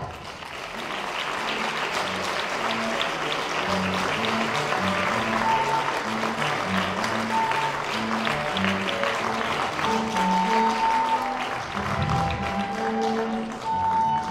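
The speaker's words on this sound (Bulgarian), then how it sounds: "Аплодисменти за Антонета Танева." Audience applause at a beauty pageant in Stara Zagora, steady dense clapping sustained throughout with faint voices mixed in beneath.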